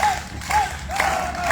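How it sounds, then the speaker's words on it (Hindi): An audience claps hands together as a crowd, a dense sustained patter of applause with a faint tonal whistle running over it, brief and fairly loud. "बजाइए ताली बजाइए"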